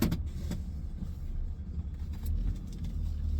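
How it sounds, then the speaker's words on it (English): A school bus passing behind someone outdoors, a faint steady engine rumble and road noise rising slightly as it goes by. "School bus behind me."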